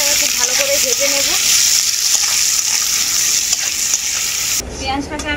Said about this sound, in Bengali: এরপর আমি পেঁয়াজটাকে খুব ভালো করে ভেজে নেব।